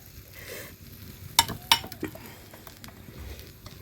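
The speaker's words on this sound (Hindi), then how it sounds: "देख रहे हो, पराठा बन रहा है घी वाला।" A paratha cooks in ghee on a pan over a homemade stove, with a soft steady sizzle and a couple of sharp metallic clinks from a utensil.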